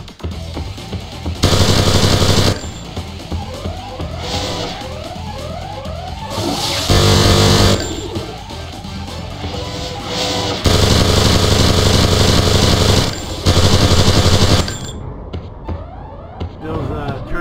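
Automated turrets firing in the MDK 2 video game, heard as repeated loud bursts of rapid gunfire that alternate with quieter stretches of mechanical game noise, with sound levels rising and falling throughout.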